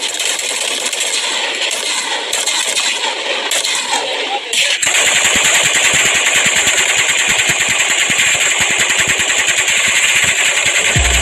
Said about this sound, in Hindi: अब ये फायरिंग इंडियन आर्मी जवानों की है।